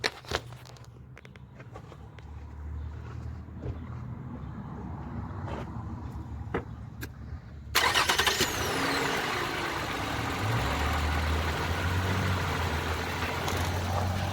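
A 2010 Toyota Venza V6 cranks and fires midway through after a quiet stretch of background hum and clicks, then settles into a steady, loud idle heard close up, no talking.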